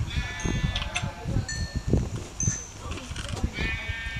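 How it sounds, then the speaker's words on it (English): Sheep in Minecraft bleat several times in short wavering calls, mixed with clicks and game sounds while a voice talks over them. "Two baby sheep."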